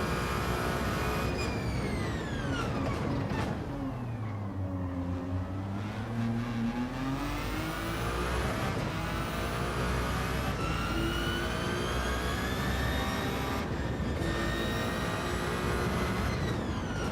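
Gr.1 prototype race car engine in Gran Turismo 7, loud and continuous, with revs dipping and climbing through gear changes and braking, a whining tone sweeping up and down over about seventeen seconds.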